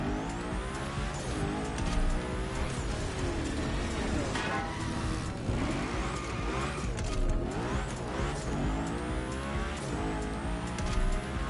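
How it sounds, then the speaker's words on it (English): A race car engine in The Crew Motorfest roars and revs continuously, gear changes shifting the pitch up and down, loud and close with no pauses. "Transmission sounds good, too."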